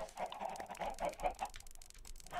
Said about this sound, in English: I can't hear you because of all the chickens.